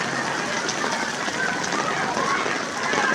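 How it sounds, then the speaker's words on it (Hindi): Heavy rain pours down outdoors in Khyber Pakhtunkhwa, Pakistan, a dense, steady broadband wash with no letup, while faint voices sit beneath it. "इस टाइम तो बहुत तेज़ बारिश हो गई है।"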